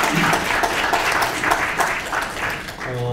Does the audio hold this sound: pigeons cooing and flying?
no